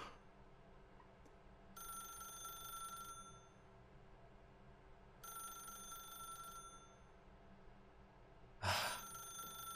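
Telephone ringing in The Stanley Parable video game: two long electronic rings, each about a second, separated by a pause, followed by a short sharp burst of noise near the end.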